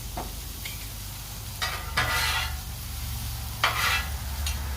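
Broccoli florets with olive oil sizzling on a big grill top, a steady close sizzle with several scraping strokes of a spatula.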